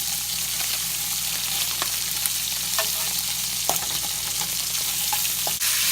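Bacon and bologna sizzle and fry in a pan, a steady close crackling hiss with scattered pops and a few clinks of a utensil as the meat is flipped, no talking.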